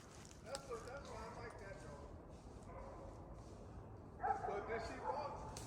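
Beagle hunting dog barking while running on a hunt, with several short yelps and bays at a distance, mostly under people talking nearby.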